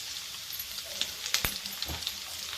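Mustard seeds, cumin and crushed garlic sizzle in hot oil, a soft steady fizz dotted with sharp crackles and popping seeds, close and fairly quiet.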